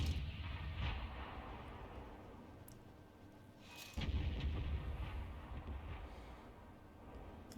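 T92 HMC self-propelled artillery in a tank battle game fires shells that land on the map, heard as two deep, muffled booms about three seconds apart, each fading into a low rumble.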